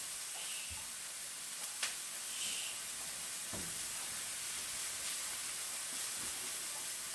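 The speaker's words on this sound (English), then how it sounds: "So you want to sweat your shallots just till they become just a little bit translucent" Shallots sweat gently in a pan on the stove, giving a soft, steady sizzling hiss with occasional faint clicks and stirring taps, quiet and continuous with no voices.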